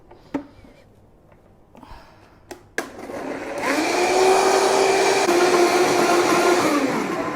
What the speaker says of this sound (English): I want to blend it